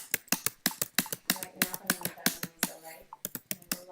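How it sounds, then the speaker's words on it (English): Rapid typing on a computer keyboard, sent from another chat client during a React Native messaging demo: a steady run of crisp, close key clicks with uneven rhythm, heard alone. "So you can hear me typing from another client to this client"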